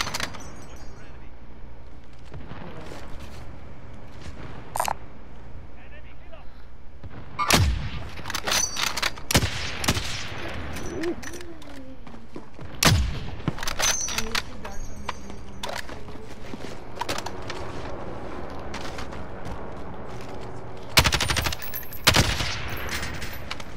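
Gunfire in Call of Duty: Modern Warfare, sharp bursts and single shots scattered through a firefight, some close and loud, others distant, with players talking over the action.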